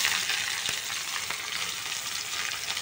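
Garlic, onion, ginger paste and chopped tomato frying together in a pan, a dense, even sizzle with faint stirring, close and continuous throughout, no voices.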